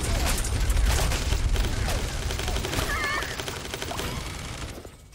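A minigun in the video game Realm Royale charges up and fires, a loud rapid burst of gunfire that sits close and fills the front of the clip, then thins out toward the end.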